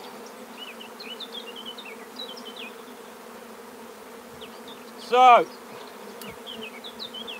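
Honey bees hum steadily at an open hive during queen cell work, a soft continuous buzz close by with one louder bee flying past, and a voice speaks briefly.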